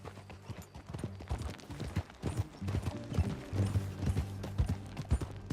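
In Red Dead Redemption 2, steady clip-clopping horse hooves while riding, loud and close, keep a brisk rhythm with faint mechanical creaks underneath.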